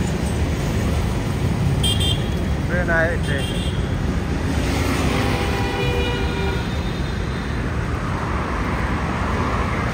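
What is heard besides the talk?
train passing overhead on an elevated track in New Delhi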